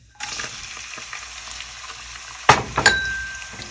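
Chopped onions fry toward brown in a pan, giving a constant moderate sizzle with light stirring, followed by two sharp metallic clinks of a utensil, one leaving a ringing tone.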